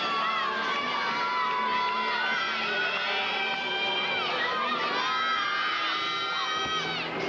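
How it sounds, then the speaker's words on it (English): Teammates in a college women's gymnastics meet scream and cheer loudly and continuously from the background, a dense crowd roar of high shouts and whoops filling the arena throughout. "You hear her teammates screaming in the background"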